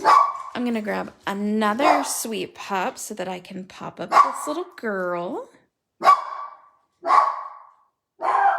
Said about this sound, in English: I'm so sorry that my dog is barking.